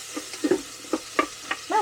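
Mushrooms and food frying in garlic oil in a pan over a campfire give short, crackling sizzles and pops, close and fairly loud, in irregular bursts.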